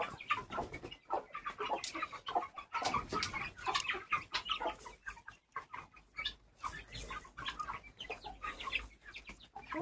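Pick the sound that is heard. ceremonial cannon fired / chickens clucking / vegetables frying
chickens clucking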